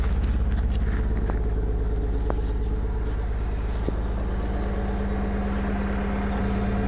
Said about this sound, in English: So I gotta adjust the idle to make sure it's good